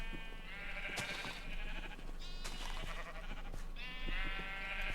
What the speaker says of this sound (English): Brown sheep, out of the way.